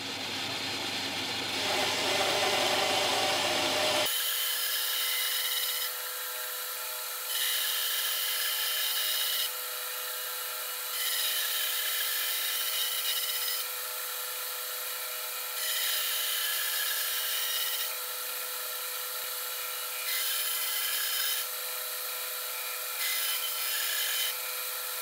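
Wooden tool handle edges are profiled on a jig by a power tool that runs with a steady whine and a rhythmic rise and fall of cutting passes every couple of seconds, close and continuous.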